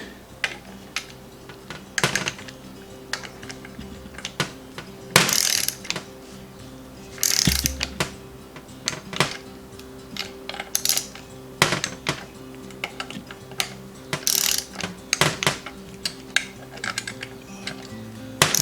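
Torque wrench clicking repeatedly while tightening the timing cover bolts on an Opel CIH engine, sharp ratchet-like clicks and short bursts recurring every second or two, close and fairly loud, with no talking.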